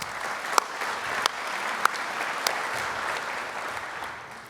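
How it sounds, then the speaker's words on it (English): A round of applause rises from an agricultural program audience, a steady dense clapping that holds evenly for several seconds with a few sharper individual claps standing out, then tapers slightly at the close. "Again, a round of applause."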